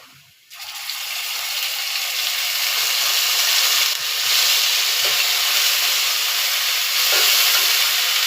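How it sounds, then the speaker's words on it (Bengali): Ginger garlic paste frying in a pan makes a loud, continuous sizzling hiss. It starts after a brief quiet moment and holds steady throughout. "তাহলে দেখবেন এই পেস্টটা ভাজা হয়ে যাবে।"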